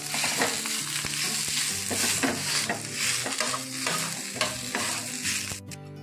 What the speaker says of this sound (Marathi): हा कांदा मी भाजून घेतलेला आहे, पण तरी पण थोडासा तेलामध्ये आपण त्याला परतून घेऊया